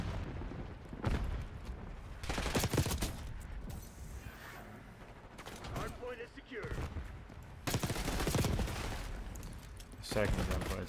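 Gunfire bursts in the shooter game Call of Duty Black Ops 6 on the map Babylon, with loud rapid volleys in several clusters and quieter gaps where a player talks over the game audio.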